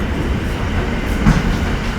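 A train rolls along with a steady, dense rumble of wheels and carriages, continuous and fairly loud throughout with a brief swell near the end.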